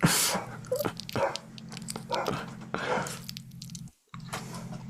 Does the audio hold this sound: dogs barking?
yes